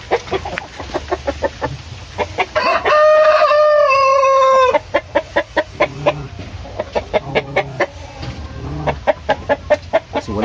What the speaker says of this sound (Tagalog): Ito mga assorted na mga manok.